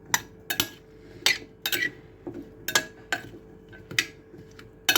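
Spoon or utensil clinking against a dish while black pepper, salt and paprika are stirred in, a series of sharp metallic taps at irregular intervals with quiet kitchen background, no talk.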